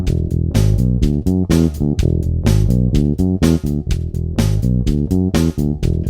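Bass guitar riff played over a drum track, loud and close, with punchy rhythmic drum hits and a repeating groove throughout.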